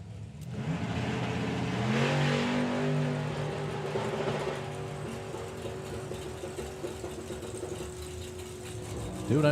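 A drag racing car engine at a Summer Nationals event, rumbling at idle and rising into revs with strong, sustained engine tones, loud and close at first then settling, with crowd and track noise behind.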